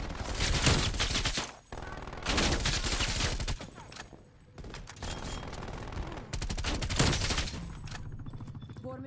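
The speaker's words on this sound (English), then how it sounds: "Hostile sentry turret active." A hostile sentry turret in a shooter video game fires sustained rapid bursts of automatic gunfire, loud and close, broken by short pauses between volleys.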